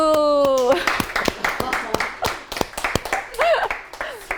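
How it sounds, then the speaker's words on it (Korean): A classroom of students claps in a quick burst of sharp, uneven hand claps close by, mixed with a teacher's voice and students talking. "박수"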